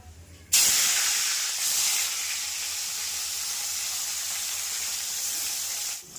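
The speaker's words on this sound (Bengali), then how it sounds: "মাছ ভাজা হয়ে গেছে, মাছ ভাজাগুলোকে তুলে নেব।" Rohu fish pieces rubbed with turmeric and salt hit hot oil in a wok with a sudden loud hiss, settling into a strong, steady sizzle that continues for several seconds.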